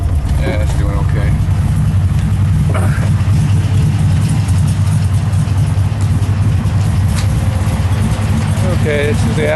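A Mazda RX7 engine idles loudly and steadily close by, a constant low rumble throughout with faint higher rattles over it.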